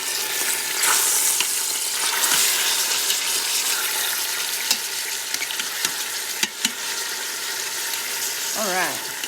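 Pork pieces fry in oil in a pressure cooker, giving a continuous bright sizzle with occasional pops and scraping clicks, and a short squeak near the end.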